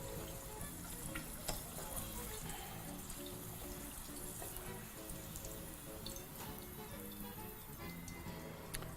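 Water drains and splashes from a pot of boiled potatoes, a continuous soft trickling and pouring with scattered drips, fairly faint and with no talk.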